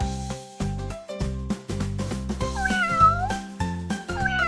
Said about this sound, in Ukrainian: Ми, кішки, дивовижні тварини, ласкаві, ніжні і шовковистою шерстю і очима, що світяться вночі.